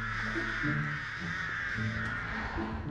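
Crows caw in the video game Dead by Daylight, with a steady, fairly faint cawing over a constant ambient drone and no clear talk.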